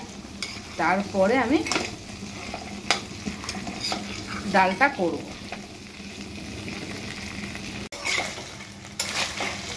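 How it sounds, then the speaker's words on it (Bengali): Oil sizzles steadily as a fish head fries in a pan, with occasional utensil scrapes and someone speaking briefly over it. "এই দেখো মাছের মাথা এখানে ভাজা বসানো হয়ে গেছে।"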